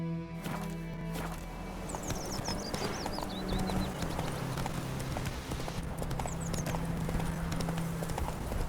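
Horse hooves clip-clopping at a steady walking pace in The Witcher 3 video game, close and continuous, with birdsong twittering faintly in the background.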